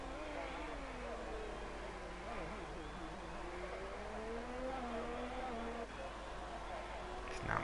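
An F1 race car engine in a PlayStation racing game at the France circuit gives a faint, whining drone that rises and falls through the gears, with commentary over it.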